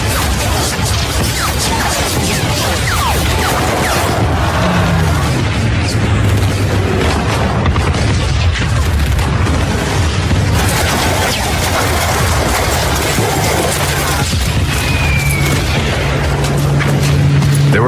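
Battle din of rocket launchers, mortars and machine-gun nests firing on American troops landing on a beach, a dense continuous roar of blasts and crackling gunfire with no clear gaps.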